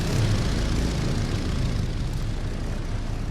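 Dauntless dive bomber propeller engines in a WWII naval strategy game, a steady loud droning roar with a low rumbling throb that holds unbroken throughout, with no voices.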